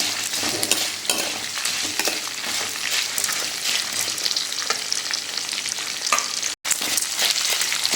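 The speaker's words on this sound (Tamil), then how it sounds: "இப்போ எல்லாத்தையும் வதக்கும் போது தான் நடுவில் போடணும்." Pirandai (adamant creeper) sautéing with dried chillies in a pan gives a continuous close sizzle with stirring scrapes, cutting out for a moment near the end.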